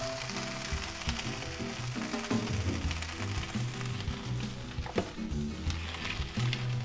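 Breakfast burrito filling sizzling in a frying pan, a continuous crackling hiss with light popping, heard at moderate level beneath a soft background music bed.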